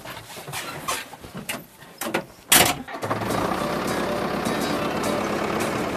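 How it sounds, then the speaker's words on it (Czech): A large farm tractor starts up on a stony field, with scattered clattering and bursts first, then a steady, loud engine drone that runs on without a break. "Jsem zvědavej, tohle to je pořádný traktor."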